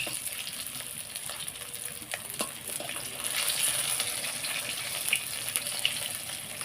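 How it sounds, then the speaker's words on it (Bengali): Gentle continuous sizzling of fish frying in oil, close by, with occasional light clicks and a slight swell midway. "এই যে মাছটা ভাজা করে নিচ্ছি"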